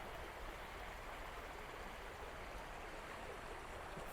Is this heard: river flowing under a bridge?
yes